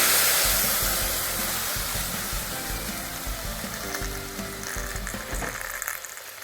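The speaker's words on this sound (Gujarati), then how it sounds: "સરસથી આપણે કઢીનો વઘાર કરી લીધો છે" Tempering for kadhi, a buttermilk and gram flour curry, sizzling loudly in hot oil, a dense continuous crackle that settles slightly and drops off near the end, with a faint clink of stirring.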